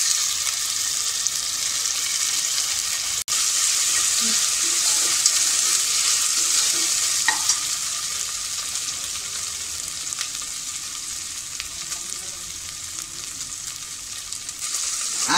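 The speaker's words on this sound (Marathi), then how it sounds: "आलं लसूण आपलं छान परतून झालं आहे" Ginger garlic paste fries with pink-browned onions in a pan for a bottle gourd and chana dal dish, making a bright, steady sizzle close by with a few faint stirring scrapes.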